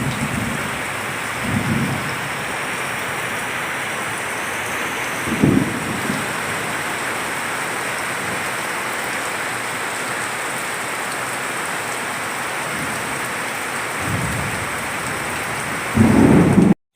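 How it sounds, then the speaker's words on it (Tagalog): Steady heavy rain pours over a banana plantation, with several low thunder rumbles rolling in at intervals, the last one loud and close near the end. "Salamat po at umulan na, hindi na po kami magdidilig."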